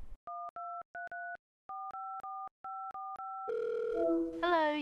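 A landline handset plays a series of evenly spaced dual-tone beeps as a number is keyed in, followed by a steady dial tone, then a ringing tone.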